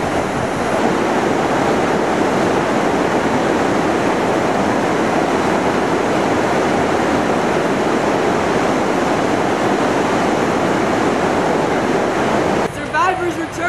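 Tumalo Falls near Bend, Oregon, a loud continuous roar of falling water heard up close, steady throughout, with a brief rustle near the end.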